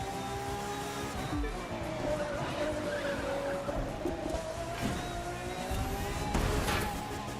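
A car in a street race in The Crew 2 skids with drawn-out tire squeals over a loud, steady engine roar, and bumps and thuds break in now and then.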